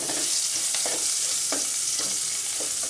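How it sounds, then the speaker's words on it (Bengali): Onions fry in leftover fish-frying oil in a pot. A steady crackling sizzle runs throughout, broken by regular scraping stir strokes about every half second, with no talking. "মাছ ভাজির তেলটা পাতিলে দিয়ে দেব। এটাতে দিয়ে দিব পেঁয়াজ"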